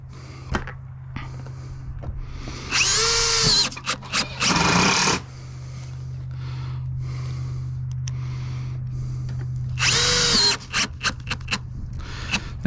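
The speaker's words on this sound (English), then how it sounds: "put my second fastener in" A power drill drives fasteners into exposed-fastener metal roofing panels. Two loud, close whirring bursts each end abruptly, with a steady hum and shuffling handling noise between them.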